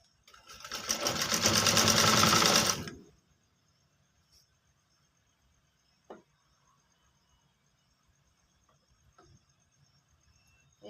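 A sewing machine runs in one loud, steady burst of about three seconds while stitching a kurti collar, then stops, leaving near silence with a few faint knocks and handling sounds.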